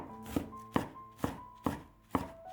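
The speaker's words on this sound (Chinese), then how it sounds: "准备半个洋葱，先给它切成细丝，再改刀切成小碎丁，这里尽量切碎一些。" A knife chopping half an onion into small dice on a board: five crisp, evenly spaced chops, close and clear, with nothing else heard.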